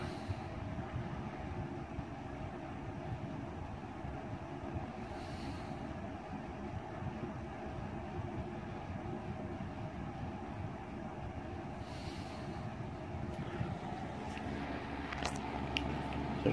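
A grey Duracraft DB-10 box fan runs on low speed with a freshly oiled front bearing, a steady low motor hum and airy whoosh, constant and fairly quiet with a few faint clicks near the end.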